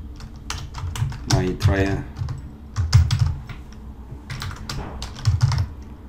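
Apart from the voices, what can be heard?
typing a file name on a computer keyboard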